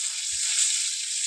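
Onion, garlic and torn green chillies sizzling in hot oil in a frying pan, giving a bright, steady crackling hiss, close and continuous, with one soft low bump early on.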